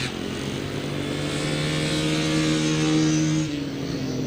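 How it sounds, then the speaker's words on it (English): A 250cc Honda Super Dream motorcycle at a grasstrack racing festival revs hard and steadily, a loud sustained engine drone with rising pitch that drops off near the end, heard alone without talk. "250cc Honda Super Dream at the back. Being revved like it's never revved before."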